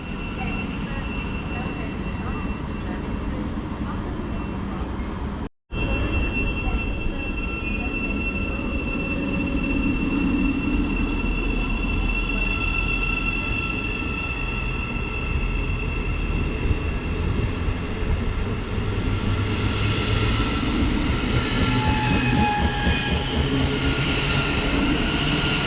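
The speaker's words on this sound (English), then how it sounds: "There goes 700-048, making a bit of an odd noise as it leaves" A Class 700 electric train pulls out of Stevenage station, a steady rumbling drone with rising tonal whine and squealing, continuous and fairly loud throughout, briefly cut near the start, with faint talk in the background.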